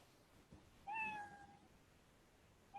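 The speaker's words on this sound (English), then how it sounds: "Are you able to hear that cat sound?" A single clear cat meow plays in a simulation, fairly faint against quiet background hiss, with the start of a second meow cut off at the end.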